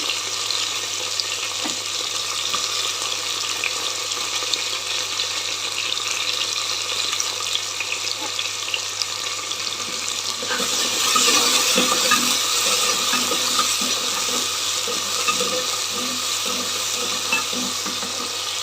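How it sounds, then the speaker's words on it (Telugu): Okra (bendakaya) with tomatoes fries in a pan for a masala curry, giving a steady close sizzle that swells louder partway through, with occasional stirring scrapes and no talk. "మంచిగా వేగేదాకా వేపుకోవాలి"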